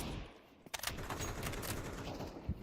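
Rapid gunfire from wall-bang spam in a Counter-Strike match, a quick flurry of sharp shots over a dense, busy game mix, fairly faint overall with a short burst standing out partway through.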